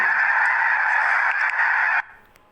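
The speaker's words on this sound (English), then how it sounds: "He turned around and saw a large flock of birds flying towards the forest." A flock of migratory birds gives a dense, loud chorus of honking calls that holds steady for about two seconds, then cuts off abruptly.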